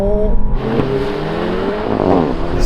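A VW Golf GTI Clubsport, Honda Civic Type R and Renault Megane Trophy accelerate hard in a rolling drag race from third gear, engine tones rising steadily and loudly with a whirring turbo layer throughout.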